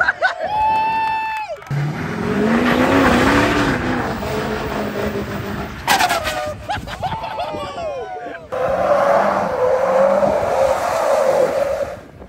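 Tires on a 20-inch lifted truck squeal and screech loudly as an engine revs, with people shouting and cheering close by.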